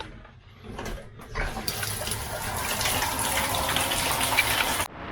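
Water gushes steadily from an old shower head in a caravan at a campsite for several seconds, a loud broadband hiss that cuts off abruptly near the end.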